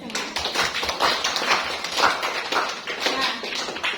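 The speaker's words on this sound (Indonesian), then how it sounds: "Kita berikan tepuk tangan untuk kita semua." A classroom of students claps together, a dense run of quick hand claps that rises and falls in rough waves for a few seconds.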